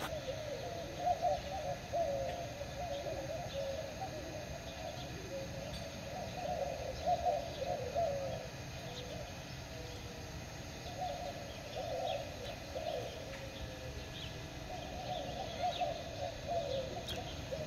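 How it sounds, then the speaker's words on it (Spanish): Outdoors after rain, birds call repeatedly at a moderate distance, hooting and cooing in short bursts over a soft, steady background wash, with no voices. "Oigan las aves, óiganlas."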